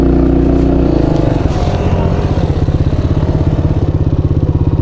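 A Kayo 110 quad bike engine nearby, revving with a steady throbbing idle that then settles into a rapid, even putter, loud and close throughout.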